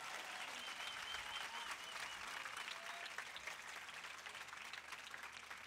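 Graduates at a graduation ceremony applauding one another, a steady wash of crowd clapping that continues evenly throughout, heard from within a large hall.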